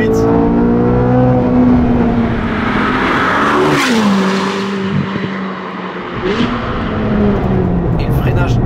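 A Corvette C8 Z06's naturally aspirated V8 revs hard from inside the cabin, its tone climbing steadily, dropping sharply at a gear change and rising again, with someone speaking over it.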